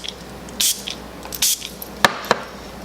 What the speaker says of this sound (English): So I will spray my face 2 or 3 times during this process